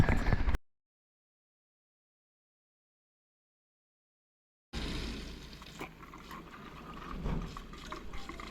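Water gushing out of the cooling system of an overheating ramp truck during a flush, a steady close rush of liquid after a long silent gap, with a brief burst at the start.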